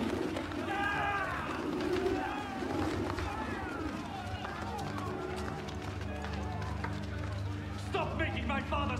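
Pigeons coo and flutter in a temple marketplace dramatization, their calls mixed with hurried footsteps, crowd bustle and people speaking over the scene.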